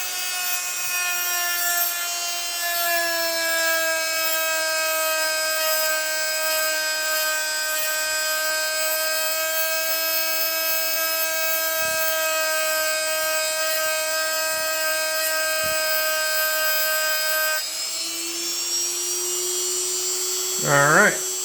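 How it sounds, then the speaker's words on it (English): A Dremel rotary tool grinds a barcode off the steel of a Colt Python revolver, making a close, loud, steady high-pitched whine rich in overtones. It cuts out near the end, followed by a brief squeaky rub. "we just ground it off with a Dremel tool and some high-speed"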